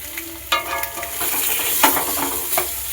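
Onions and potatoes fry in a hot pan while being stirred, a continuous close sizzle broken by scraping spatula strokes every half second or so, with no voices.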